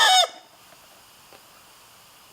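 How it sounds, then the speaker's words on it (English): A rooster crows in a short, loud burst that cuts off quickly and leaves near silence with faint background noise. "The chicken"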